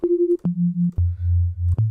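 Sine-wave synth bass for drum and bass plays alone as a run of steady, sustained pure tones, stepping down in pitch across four held notes with clean attacks and no drums or talk.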